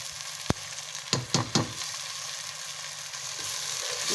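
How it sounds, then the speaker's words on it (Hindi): Moongre fry in a pan with potatoes and peas under a steady, close sizzle, with one sharp knock and then a quick cluster of three or four utensil clatters. "इनको भी थोड़ा फ्राई कर देंगे बीच में।"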